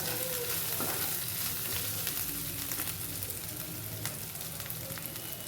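Ginger garlic paste fries in hot oil for a chicken curry, giving a dense, continuous sizzle close up, with occasional scraping stirs and a few sharper pops.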